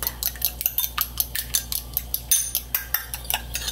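Egg yolk is whisked in a bowl with a utensil, giving a quick, regular run of close clinks and taps against the bowl's sides that continues without pause.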